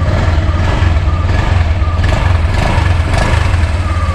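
A Honda Click scooter engine runs at a steady idle close by, a continuous low throbbing hum with even pulsing and no revving, heard alone without talk.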